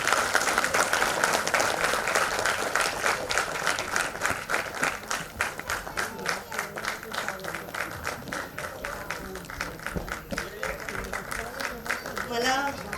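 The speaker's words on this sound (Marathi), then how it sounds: "जरा जोरदार टाळ्या." Loud audience applause at a celebration at the Swatantryaveer Savarkar national memorial, a thick roar of many hands that gradually thins into distinct sharp claps, with voices audible underneath.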